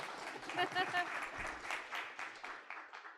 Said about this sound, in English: I did instigate some clapping